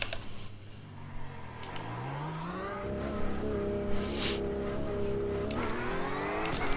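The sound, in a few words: Porsche GT3 race car engine in iRacing video game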